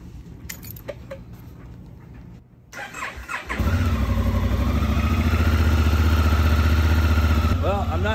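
A 2019 Honda Africa Twin motorcycle engine cranks with a clatter of keys, then fires and settles into a loud, steady idle close by after a stator cover replacement, with a brief high squeal near the end.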